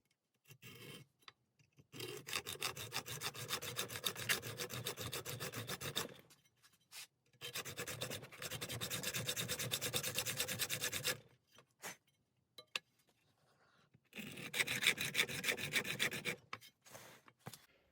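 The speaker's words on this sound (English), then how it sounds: "Let's widen this here with a hacksaw so we can get a better grip or purchase with a screwdriver." A hacksaw widens a screw slot on an antique Walker Badger 126 jack. The metal-on-metal rasping comes in three sustained bouts of fast, even strokes, separated by brief pauses, heard close and alone.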